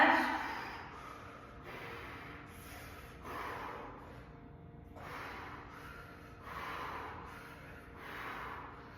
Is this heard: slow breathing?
yes